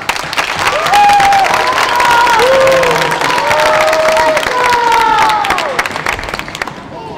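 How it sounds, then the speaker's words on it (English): An elementary school audience at a semester awards assembly breaks into sustained loud applause with crowd cheering, dense clapping holding steady for several seconds before tapering off, with a few voices calling out over it. "One more round of applause."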